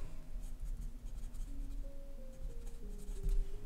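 A fountain pen filled with Rohrer & Klingner sketch ink scratches softly on paper in short, steady strokes, faint and close, with a low hum underneath and no talk.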